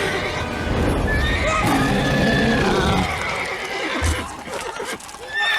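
A horse called Roach in The Witcher 3: Wild Hunt gives a loud, close whinny lasting several seconds, with some hoof clip-clop and game sounds trailing after it.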